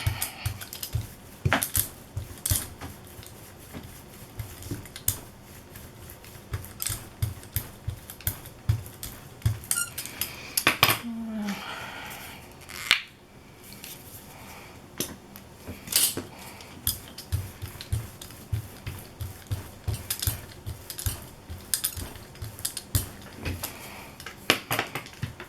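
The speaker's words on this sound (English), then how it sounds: "We're just going to brayer this on." A brayer rolls paint onto a craft substrate with steady, uneven ticking and tacky clicking, repeated close-up strokes running throughout with a brief pause midway.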